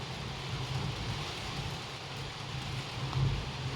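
Steady rain falling around a house, a continuous soft hiss with no talk, swelling slightly near the end.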